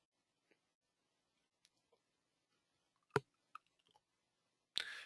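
A computer mouse clicking on web links: a few sparse, sharp, quiet clicks scattered over several seconds against near silence, with one slightly louder burst at the end.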